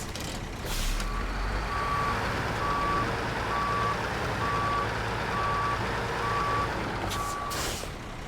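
A log-hauling truck with busted tires turns around, its reversing alarm sounding a steady run of evenly spaced beeps over a constant low engine rumble, moderately near, with no talk.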